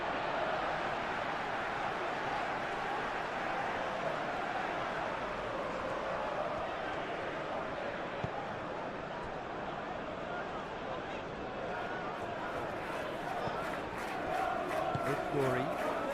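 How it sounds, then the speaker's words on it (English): A steady, dense roar from a stadium crowd at a simulated Manchester City vs Chelsea match in the football game PES 21 holds evenly throughout, with a voice heard faintly beneath it. "the crowd are reacting to that now"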